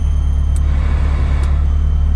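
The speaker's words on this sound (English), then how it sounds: "Oh, my fan started squeaking too." A car's engine fan squeals in two short, sharp bursts over a steady, loud engine drone, with no one talking.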